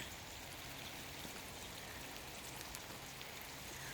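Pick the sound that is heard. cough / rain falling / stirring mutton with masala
rain falling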